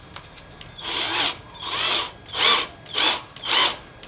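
Power drill driving screws into wood for a tufted mirror frame, five separate whirring bursts of about half a second each, rising in pitch, close and loud with short pauses between.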